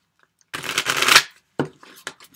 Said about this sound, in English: 2 more shuffles here for 3.